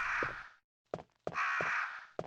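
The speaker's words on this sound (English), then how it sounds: "I hear birds." Two or three harsh crow caws in the video game Resident Evil, in close succession, separated by short pauses, fairly near and clear against a quiet background.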